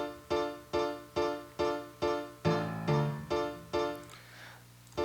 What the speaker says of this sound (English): the theater piano sounds like this.